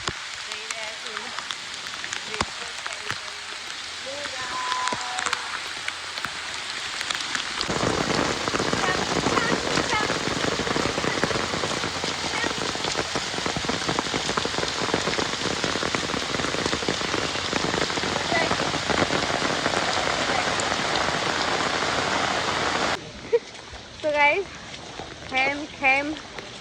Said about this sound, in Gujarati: મુશળધાર વરસાદ ચાલુ થઈ ગયો છે